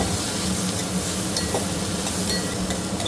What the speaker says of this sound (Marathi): थोडासा गरम मसाला ते व्यवस्थित फ्राय करून घेते